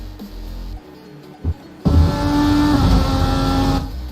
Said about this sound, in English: Hear the engines roar.